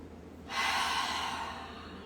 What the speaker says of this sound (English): Inhale through the nose. Exhale.